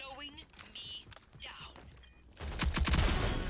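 Video game DMR rifle fire erupts in a loud burst of rapid shots near the end, following quieter game sounds and a few brief effects.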